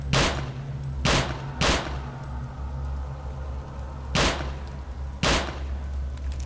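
Sniper rifle fire in the RealRTCW game, five loud sharp single shots at irregular spacing over a constant low engine-like hum, with no talking.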